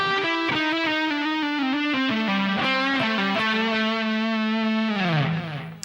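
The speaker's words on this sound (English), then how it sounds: "now we're going to do a long run from the A blues scale" Electric guitar with effects and distortion running through a long A blues scale, a fast stream of clear single notes descending and settling onto a held final note.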